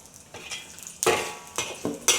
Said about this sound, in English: Over low to medium heat, cook the garlic slices first.